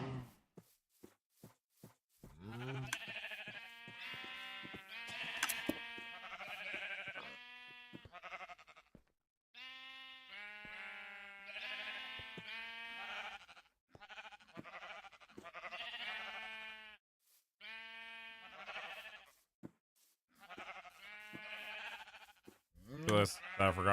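Sheep in Minecraft bleating over and over in a long series of wavering calls, some in quick clusters, with short gaps and a few clicks between them.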